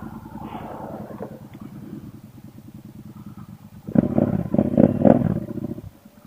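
A Triumph Speedmaster motorcycle engine idles with a steady low rumble up close, then swells into louder revving bursts before settling, with no talk over it.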